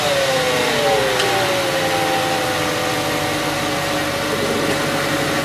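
A 2009 Volkswagen Touareg engine runs steadily after starting during a transmission flush, a constant loud idle with a faint rising whine.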